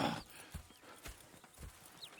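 Horses in Red Dead Redemption 2 shift and step with soft, hollow hoof clops spaced irregularly, a faint snort or two on a quiet background.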